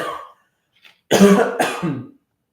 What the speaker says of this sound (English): I'm like coughing.